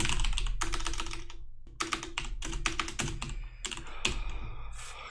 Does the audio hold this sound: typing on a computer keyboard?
yes